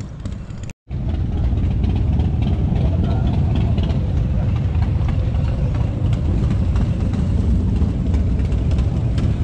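Several motorbikes gathering at a night ride meet, engines rumbling and idling steadily up close, a continuous low, loud drone after a brief cut near the start.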